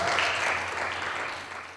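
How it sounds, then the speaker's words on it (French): A crowd at a Foire gourmande gathering claps for its new president, a dense wash of applause that is loud at first and slowly fades. "C'est sous un tonnerre d'applaudissements que Médéric Clément s'est présenté en tant que nouveau président de la Foire gourmande"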